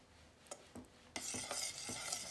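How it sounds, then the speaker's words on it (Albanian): A spoon stirs seasoned chicken soup in a pot, scraping and clinking in a few quick strokes, then a louder hissing sizzle takes over while the stirring continues close by, with no talking. "E përzijim që të përhapet mirë."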